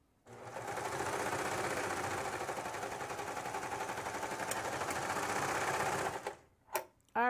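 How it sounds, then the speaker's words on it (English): A serger stitches the back neck edge of a faux cowl T-top in a fast, even mechanical whir that runs loud and unbroken for about six seconds, then stops, followed by a couple of short clicks. "I'm going to serge the back neck edge."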